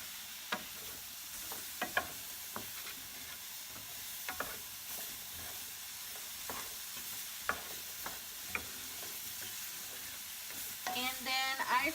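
Mushrooms cooking in a pan for an alfredo sauce: a soft, continuous sizzle runs underneath, broken by scattered sharp clicks and scrapes of stirring, with a brief burst of clattering near the end.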